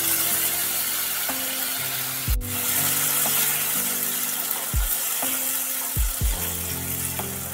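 Tomato and kalonji frying in hot mustard oil, a steady close sizzle with occasional sharp clinks and scrapes of a spoon against the pan.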